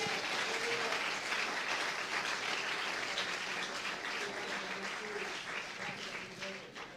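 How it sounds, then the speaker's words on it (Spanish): A church congregation applauds together, a dense wash of many hands clapping that stays steady and gradually fades slightly, heard from within the room. "Dele un aplauso al Señor."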